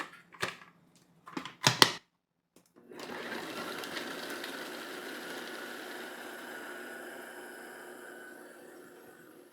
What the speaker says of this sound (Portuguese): Agora a gente vai bater.